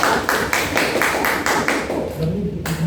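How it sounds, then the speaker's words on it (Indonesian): A class claps together for the final student group presenting, producing steady rhythmic applause of evenly spaced claps in unison that fades near the end as a voice begins. "kita berikan aplaus buat"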